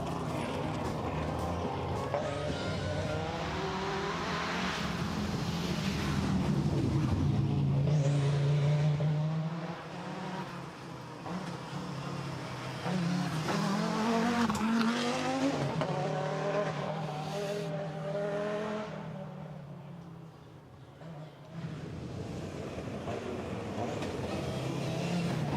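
An Audi five-cylinder rally car launches off the start line at a forest rally stage, its engine revving hard through rising gear changes with tyre noise, loud and close before receding somewhat.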